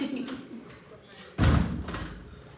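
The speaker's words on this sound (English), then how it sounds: "Can you close the door, please?" A door is shut with a single solid thud partway through, in a lecture room during an anatomy class, while a lecturer talks before and after the slam.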